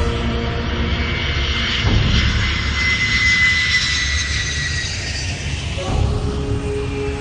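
The presidential airplane Air Force One lands at a government airfield in Washington, its jet engines roaring loud and steady with a rising whine and broadband rush throughout, heard alone without talk.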